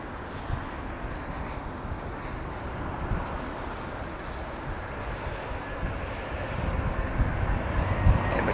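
An aircraft arriving to land on runway 27 right at Heathrow Airport produces a steady, broad engine roar that swells slightly toward the end, heard alone without speech.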